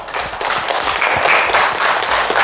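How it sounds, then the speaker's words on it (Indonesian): A group of participants gives applause to group 2 in an Indonesian classroom or workshop, several seconds of steady, close, many-handed clapping. "berikan aplaus dulu untuk kelompok 2"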